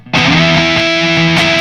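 A distorted electric guitar sustains a bright octave note, starting abruptly and ringing steadily with faint pick attacks, alone and up close.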